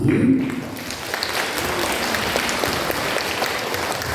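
Sustained audience applause for a women's dance group at a community music event in Poręba, dense steady clapping filling the room for the whole stretch, with a brief voice at the very start.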